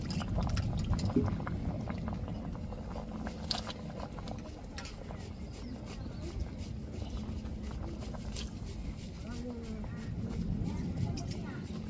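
Dried rock fish curry bubbles at a steady rolling boil in a pot, a continuous dense simmering churn with no clear pauses throughout.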